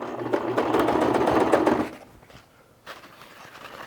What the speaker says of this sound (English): Let's sew along the edge there.